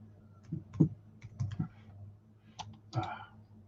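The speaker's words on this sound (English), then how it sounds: "keyboard." Someone types on a computer keyboard, a handful of sharp, irregular clicks close to the microphone with short pauses between them over a quiet low hum.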